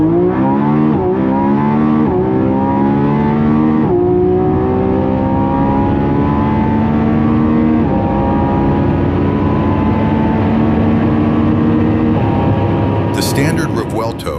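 Lamborghini Revuelto SV with a naturally aspirated V12 hybrid powertrain, the engine revving hard through several rising gear pulls and then a long sustained climbing howl, loud and close, with a voice speaking over it.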